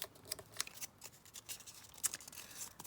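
Paper being folded and pressed down in an autumn altered book journal, a series of soft, crisp crackles and rustles in quick irregular bursts, close and fairly quiet with no talking.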